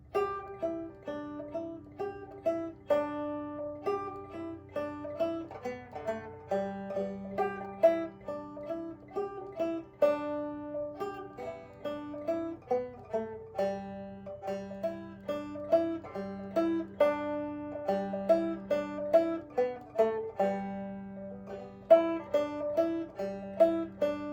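A clawhammer banjo plays a lively tune alone in a steady, bouncing rhythm of quick plucked notes that ring and decay.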